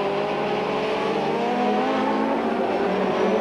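Two-litre touring cars from the 1990 British Touring Car Championship race out of Goddard corner at Donington Park, their engines a loud, sustained high-pitched roar with several overlapping tones climbing together, close and unbroken by talk.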